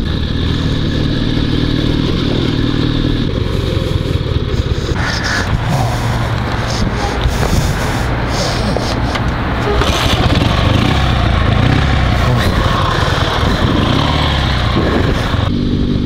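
A heavy 650 cc sidecar motorcycle engine runs steadily throughout, a loud rumbling drone with some mechanical clatter, close by and continuous.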